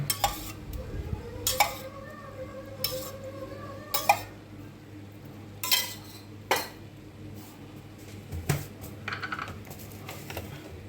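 Milk and yogurt are stirred into chicken biryani in a metal pot, giving intermittent clinks and scrapes of a spoon against the pot, spaced irregularly and moderately close, with no talking.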